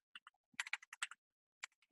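Quiet keystrokes tap on a computer keyboard in a short, uneven run of about a dozen clicks. A brief pause falls partway through before a few more taps follow, all close and soft.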